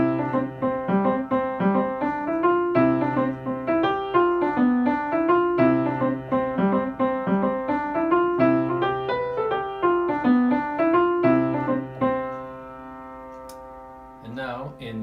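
The Moon Coin Jig played in a straight major key on a sustained melodic instrument with a low drone, lively bouncing jig rhythm that runs about twelve seconds before fading into a quieter tail.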